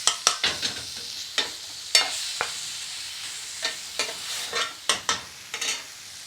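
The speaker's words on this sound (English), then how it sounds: "pull in the residue that's building on the edges of the pan." Chicken tikka moghul curry sizzles in a frying pan as a utensil repeatedly stirs and scrapes residue in from the edges, giving a steady run of close, sharp scraping strokes over the constant frying hiss.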